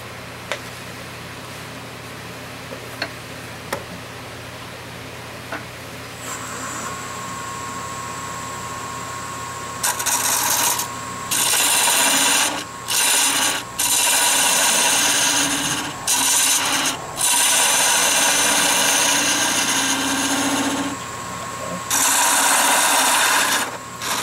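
A wood lathe turning a palm wood wine bottle stopper runs with a steady hum, then a tool bites in with loud, rough scraping bursts that start and stop repeatedly.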